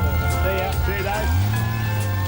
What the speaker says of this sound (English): Riding off into the sunset on his brand spanking new Honda Goldwing